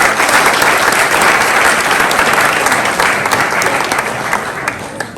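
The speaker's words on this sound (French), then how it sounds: "ça vaut bien les applaudissements" A hall full of people at a mayor's New Year wishes ceremony in Pomponne claps loudly and evenly for the DJ, a dense sustained applause that tapers slightly toward the end.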